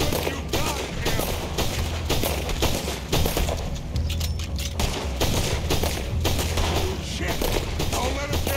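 A loud, sustained volley of gunfire in Red Dead Redemption 2, shots overlapping into a constant close fusillade with heavy low-end thumps throughout.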